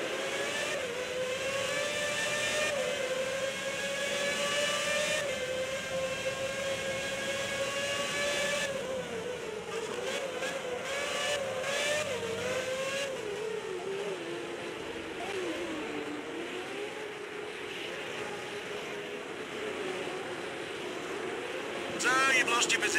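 Formula 1 cars in a 2006 Turkish Grand Prix racing game accelerate at the race start, a steady high engine whine with rising and shifting tones that holds loud throughout and thins slightly toward the end.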